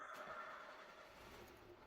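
A car engine cranks and catches after its lambda sensor and coolant temperature sensor were replaced, a close, steady mechanical rumble starting up without voices.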